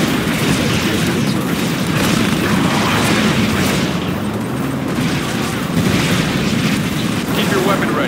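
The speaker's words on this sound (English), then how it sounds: "Tiberium explosion detected." A Tiberium explosion booms during a Command & Conquer 3 Tiberium Wars skirmish, set in a dense, continuous wash of loud battle noise with repeated bursts and rumbles throughout.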